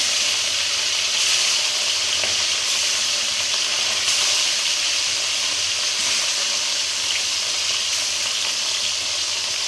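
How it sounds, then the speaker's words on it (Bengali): Parshe fish frying in hot oil in a wok, a loud, steady sizzle and hiss running continuously throughout with no voices. "তেল গরম হয়ে গেছে, তেলে ছেড়ে দিচ্ছি"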